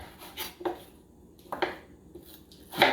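Knife slicing potatoes into fry-sized sticks on a board for poutine, giving a few separate crisp cuts and knocks about a second apart, close and moderately loud, with no talk.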